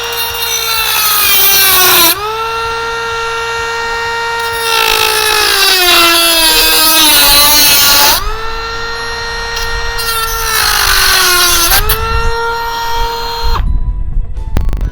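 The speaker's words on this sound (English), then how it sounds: "I put a little cutting blade on the end of the Dremel, and I do have to trim something here in metal." A Dremel 8220 rotary tool fitted with a cutting blade cuts into metal, a loud close high-pitched whine whose pitch sags and rises repeatedly as the blade bites, in several long passes with brief breaks.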